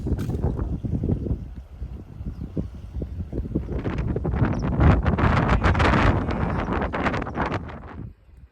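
Wind gusting across the microphone at an outdoor lunch spot near Dewhill Naze and Stone Low, a continuous rough buffeting rumble that swells louder in the second half before cutting off, with no talking.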